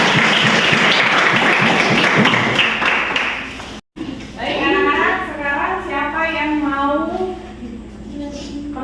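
Classroom applause fills the first few seconds with dense, steady clapping from a group of students, then cuts out and a voice speaks.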